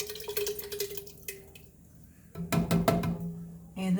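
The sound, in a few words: pouring canned diced tomatoes into soup pot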